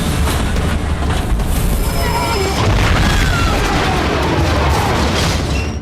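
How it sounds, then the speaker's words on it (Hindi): A heavy, sustained rumbling roar of a train explosion in Ryongchon, North Korea, with crackling debris, loud and continuous throughout, with a low booming undertone. "बारूदी धमाके से ट्रेन का पुर्जा पुर्जा बिखर गया।"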